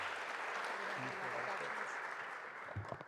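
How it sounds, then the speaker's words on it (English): A school board meeting audience gives a steady round of applause for a veteran, a dense, fairly quiet clapping that holds for about three seconds before thinning out. "let's just hear a round of applause for Mr. Frank Rodriguez."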